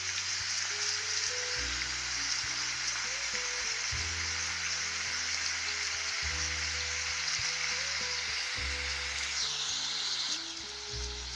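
Green chilli and tomatoes fry steadily in a pan for garlic tomato chutney, a continuous broadband sizzle with a low background hum that shifts in steps, no voices.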